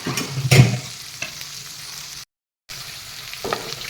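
Green peas fry in a pan with a soft continuous sizzle, a few clattering stirs early on, a brief gap of silence, then the sizzle resumes with another scrape.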